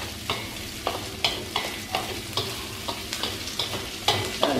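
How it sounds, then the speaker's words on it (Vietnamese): Fresh shrimp stir-fry in a pan with a steady sizzle, broken by regular scraping strokes of a utensil about every half second, close and fairly loud, with no talking. "Đảo mình xào cho tôm nó chín sơ đi đã."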